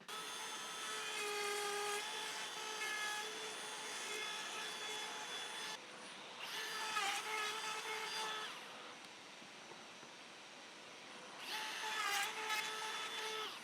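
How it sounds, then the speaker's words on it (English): A saw cuts a finger joint in wood on a jig, a steady high whine running throughout with three louder bursts as the blade bites, close and continuous. "We're going to clamp the jig again and make another cut."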